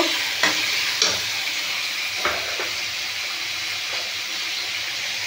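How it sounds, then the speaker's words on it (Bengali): Pumpkin pieces fry lightly in a pan with a steady close sizzle, broken by a few short scraping stir strokes. "একটু হালকা করে ভেজে নিচ্ছি, একটু কষিয়ে নেব।"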